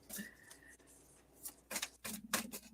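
Tarot cards being shuffled close up, with several quick riffling bursts and rustles, strongest toward the end.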